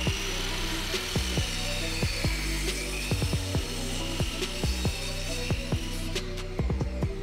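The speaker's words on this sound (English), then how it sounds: "My drop saw can only cut 310mm in depth" A drop saw cuts wood for a serving board in a workshop, a loud, steady motor whine under a dense run of rapid rhythmic knocks and clatter, close and continuous.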